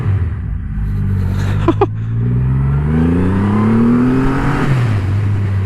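Triumph Rocket III GT motorcycle with a 2500cc engine accelerating hard, a loud close engine note climbing steadily in pitch through the gears over several seconds, with a brief gear change midway and no talk.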